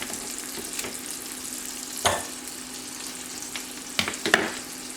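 Trimmed asparagus spears frying in oil in a pan, a steady close sizzle with a few sharp crackles and pops that rise above the hiss, no talking.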